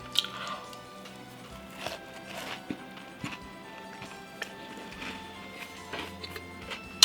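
Close, soft chewing of a Crumbl cookie, a gooey macadamia nut one, with wet squishy mouth sounds and occasional light crunches in an uneven rhythm, no talking over it.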